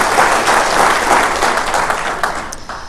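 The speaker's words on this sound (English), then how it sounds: "I'd like for everyone to give a round of applause to Scott and his board and the entire Heartland team" An audience at a city State of the City address applauds in a dense, steady wash of clapping that fades slightly toward the end.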